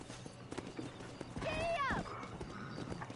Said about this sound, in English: Vamos lá, monte no seu cavalo.